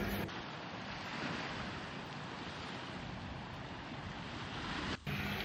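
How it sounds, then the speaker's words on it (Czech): Small decorative waterfalls splash steadily around a beach resort hotel, a continuous broad rushing wash of falling water with no voices over it. "Všude možně v okolí hotelu jsou takovýhle vodopádky, se mi to líbí."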